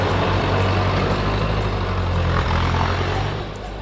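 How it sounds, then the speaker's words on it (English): A tractor engine idles steadily nearby, a loud low rumble that holds constant before easing slightly at the end, with no talk over it. "we're getting the tractor and the bale spike out"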